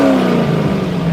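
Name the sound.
22-year-old car engine revving, stock exhaust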